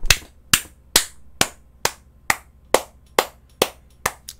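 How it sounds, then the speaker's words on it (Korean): Ten sharp, evenly spaced claps ring out at a steady rhythm, close and loud, with no talk over them, like a small round of applause during a coaching presentation. "박수 한번 치시죠."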